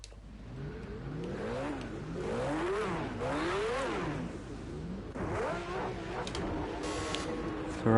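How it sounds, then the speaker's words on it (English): A Ferrari V12 at Oschersleben revs repeatedly, its pitch sweeping up and down in rising-and-falling waves. The engine is heard from a moderate distance with a steady mechanical hum underneath. "Here you see 12 cylinders working in harmony."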